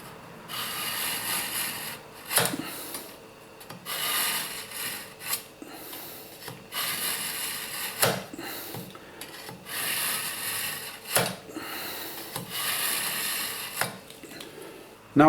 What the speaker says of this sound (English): we'll see what it's like when I run it through the sharpener